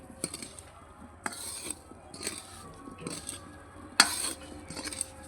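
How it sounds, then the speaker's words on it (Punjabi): Fried amla (Indian gooseberries) being mixed into a pickle masala, with intermittent scraping and clinking of a spoon against the pot and quiet pauses between strokes. "ਚੰਗੀ ਤਰ੍ਹਾਂ ਆਪਾਂ ਇਹਨਾਂ ਨੂੰ ਮਿਕਸ ਕਰ ਦਾਂਗੇ"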